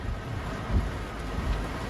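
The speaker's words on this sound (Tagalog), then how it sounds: "binayo na tayo ng ulan. Bagyo na ito" Heavy typhoon rain roars steadily with low rumbling thunder and gusts underneath, loud and continuous, with no talking.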